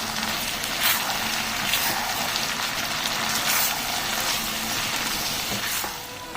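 Lemon pepper chicken sizzles in a pan as it is stirred, a steady loud hiss with a few brief scraping bursts, no talking.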